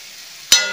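Ground spices for a gulab jamun shahi sabzi, including garam masala, salt, coriander and kasuri methi, hit a hot pan with a sudden burst and then a steady, fading sizzle that stays close and alone.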